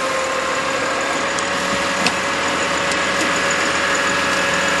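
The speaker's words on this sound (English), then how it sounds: "we're gonna shut down the operation and bring the truck back down to idle" A fire truck engine idles steadily after its pump operation is shut down, a constant mid-range rumble with a faint high whine and a small click partway through, with no talk.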